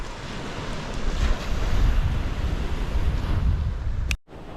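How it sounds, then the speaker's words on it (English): Waves surge and crash onto a quiet beach near an eroded old pillbox, a steady loud broadband wash with wind buffeting the microphone, cutting out abruptly near the end. "noise of the waves crashing in"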